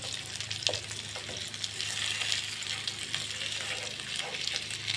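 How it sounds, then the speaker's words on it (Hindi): Fish pieces for a masala fish curry sizzle and spit steadily in hot oil in a pan, a continuous close, fairly loud frying hiss with small crackles throughout. "हमने दोनों साइडों से इसे 2-2 मिनट जो है फ्राई किया है।"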